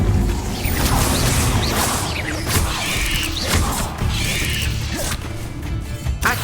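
Fire spell cast repeatedly in Hogwarts Legacy, a dense run of whooshing flares and crackling impacts with thuds and clatter, loud and continuous throughout a chaotic fight.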